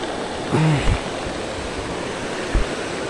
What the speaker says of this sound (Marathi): पाऊस आलाय जोरात।